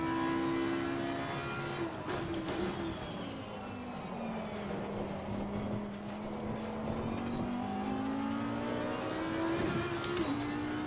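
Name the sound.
Lamborghini race car engine in Assetto Corsa Competizione game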